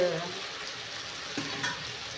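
Ground masala paste frying in a pan gives a continuous close sizzle with a couple of soft stirring scrapes.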